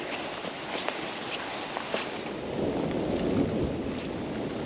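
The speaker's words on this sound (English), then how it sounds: "Bit of thunder." Low thunder rolls outdoors beside a shallow river lined with trees, a distant, steady rumble swelling slightly midway, mixed with wind and light rustling, with no talking.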